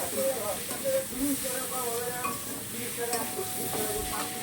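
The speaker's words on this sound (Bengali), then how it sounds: "এবার এটাকে ভালো করে নাড়তে হবে, লাল লাল করে ফেলতে হবে নাড়াচাড়া দিয়ে।" Onions frying in a pan for a magur catfish curry with cumin powder, stirred steadily: a close sizzling hiss with soft scraping strokes, and a voice talking intermittently over it.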